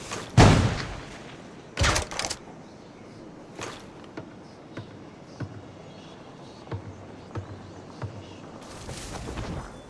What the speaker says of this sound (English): Grenade! That's the grenade.